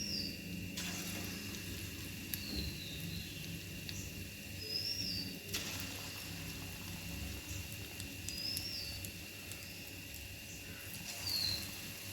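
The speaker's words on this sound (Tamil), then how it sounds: "இப்போ எண்ணெய் நல்லா சூடாயிருச்சு. இப்போ இதை சின்ன சின்ன உருண்டையாக இதில் போட்டு எடுக்க போகிறோம்." Small banana appam batter balls frying in hot oil make a faint, steady crackling sizzle throughout, with a few brief clicks and chirps in the background.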